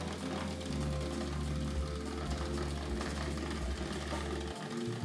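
A 1979 Hornby R350 Mallard model locomotive runs in reverse on a Zero 1 layout, giving a continuous whirring motor hum with a light mechanical rattle from the valve gear, steady and fairly close.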